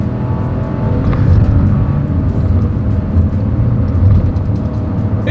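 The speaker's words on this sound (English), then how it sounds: "let's see how quickly we can get our new 2025 Chevy Trax here up to speed" Heard from inside the cabin, a 2025 Chevrolet Trax with a turbocharged three-cylinder engine accelerates hard, giving a loud, continuous low engine drone and road rumble that holds steady throughout, with no talking.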